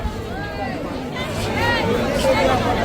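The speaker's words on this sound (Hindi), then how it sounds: "भीड़ तो बहुत हो रही है यार।" Dense crowd chatter and murmuring voices fill the courtyard of Prem Mandir temple in Vrindavan, a steady, busy hubbub that swells slightly toward the end with close talk mixed in.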